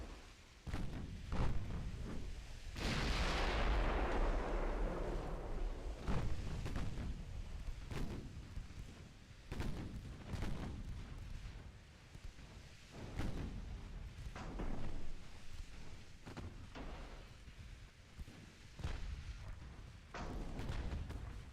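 Secondary guns on warships fire repeatedly in a naval battle in Ultimate Admiral Dreadnoughts, irregular booming shots with rumbling blasts, one longer roaring explosion near the start, spread over about twenty seconds.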